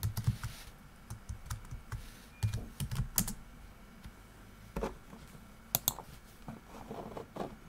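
Typing on a computer keyboard, close crisp key clicks in uneven bursts with short pauses between, no voices.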